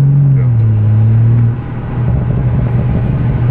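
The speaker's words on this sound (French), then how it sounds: "BM a mis un pop and bang d'origine sur cette voiture et elle fait un bruit très sympa" A BMW M4 with a full-tube exhaust rumbles loudly and close, revving down from a held note into a deep burbling idle, with faint pops in the low drone.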